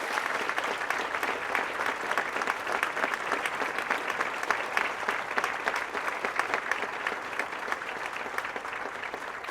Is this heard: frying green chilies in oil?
no